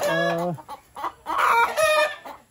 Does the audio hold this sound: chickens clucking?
yes